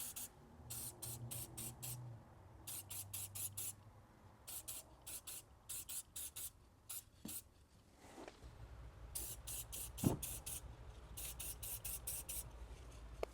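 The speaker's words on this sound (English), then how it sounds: "Okay, we're ready to go on with the chrome paint now." A can of chrome spray paint is applied to a BMW E60 headlight in a rapid series of short, close hissing bursts with brief gaps, over a low background hum.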